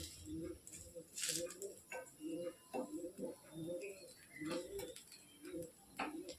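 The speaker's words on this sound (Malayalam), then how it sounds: "പ്രാവുകൾ ഇരുന്ന് കരയുന്ന കേട്ടോ" Pigeons coo in soft, low repeated phrases, several birds overlapping at a moderate distance, with occasional faint chirps and scuffs around them.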